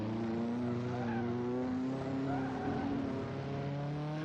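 A race car engine in the video game Assetto Corsa holds a steady, droning tone with strong harmonics, continuous and fairly quiet, with no talk.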